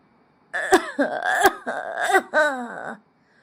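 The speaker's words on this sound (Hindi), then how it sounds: "फोन पर अरुण के पिताजी खांस रहे थे।" A man coughs several times in a row, harsh and close, with short pauses between the bursts, heard over a phone call in an animated story.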